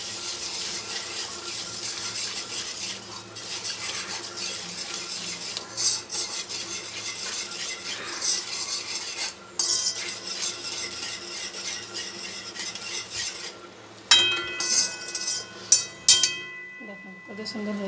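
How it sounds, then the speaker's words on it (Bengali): Sugar being stirred into egg halwa in a pan, with repeated scraping and rubbing of a spoon against the metal, a few louder knocks toward the end. "এবার মিশিয়ে দেবো আমি।"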